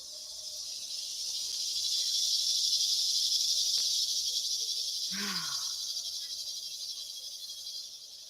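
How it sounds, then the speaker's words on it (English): Cicadas buzz steadily in Sedona during monsoon season, a continuous high, shimmering drone that swells and fades slightly, with a brief chirp-like call and faint background noise. "Can you hear the cicadas?"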